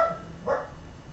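A dog out in fresh snow in a backyard gives one short bark or yip midway, fairly close and moderately loud, against quiet outdoor air with no talking.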